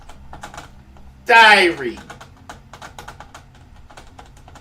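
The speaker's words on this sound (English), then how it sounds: "You wasted all that time typing." Rapid clatter of computer keyboard keys, steady and close, broken by a brief loud burst of another noise and a short spoken word near the start.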